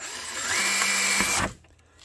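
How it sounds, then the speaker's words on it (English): A handheld power drill bores a pilot hole into an ATV body panel, a loud, steady high-pitched whine for about a second and a half, then cutting off abruptly. "We got a place mark for our pilot hole. So we just need to drill this out."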